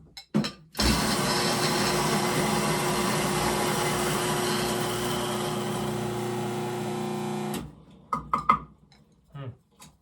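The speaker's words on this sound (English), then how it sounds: "So I'm going to grind this up on I call it a medium fine" An electric coffee grinder grinds Honolulu Blend coffee beans to a medium-fine setting, a loud steady whirring drone that starts abruptly, runs about seven seconds, then cuts off, followed by a few brief clinks and handling sounds.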